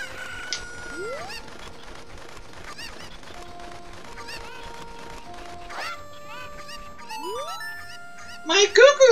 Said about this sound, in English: My cuckoos have run away!